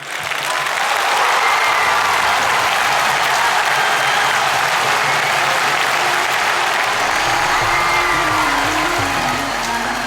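A large audience applauds loudly and steadily, with a few faint whistles and cheers mixed in.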